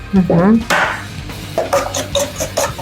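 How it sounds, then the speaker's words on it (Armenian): Egg and sugar are whisked in a bowl by hand, a quick run of light, rhythmic clicking strokes heard near and close after a brief burst of talk. "Պետք է ձուն խառնենք շաքարի հետ։"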